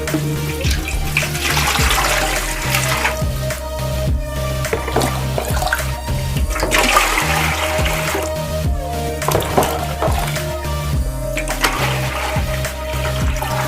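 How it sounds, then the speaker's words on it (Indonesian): Water scooped by the dipper and poured into a basin to mix fabric dye, a steady splashing pour with gurgling continuing throughout, fairly loud and close, with no voices. "2 liter air kurang lebih 2 gayung ya. Kita masukkan."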